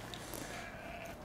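A sheep in the video game Horizon Zero Dawn: The Frozen Wilds gives a brief, faint bleat over a busy game ambience of wind and music, with no talk.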